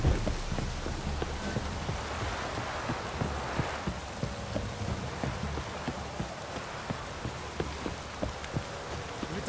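Steady rain in The Witcher 3 video game, a dense hiss of falling drops with scattered sharper patters on surfaces, moderately loud and continuous, no voices.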